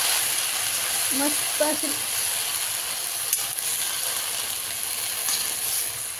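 Fenugreek leaves are stirred in a hot pan, giving a continuous steamy sizzle and hiss up close, with someone briefly speaking over it.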